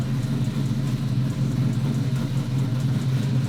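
A built twin-turbo C8 Corvette with an upgraded camshaft idles while warming up, a steady close low rumble with an even throb and no voices.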